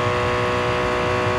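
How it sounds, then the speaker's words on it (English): A race car engine in Real Racing 3 drones steadily during a long-distance Le Mans race, its loud, unbroken hum persisting without variation. "combined with that droning engine noise, it's very sleep-inducing"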